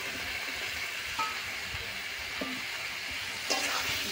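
Soybean chunks and potatoes fry in a spiced masala in a pan, a steady close sizzle with a few brief clinks partway through and no talk.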